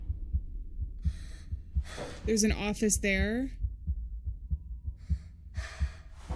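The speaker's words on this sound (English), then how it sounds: "I do hear a heartbeat." Heartbeat sound effect in a video game pulses steadily and low under a player's talk, with a few breathy swells and a brief rising electronic sweep midway.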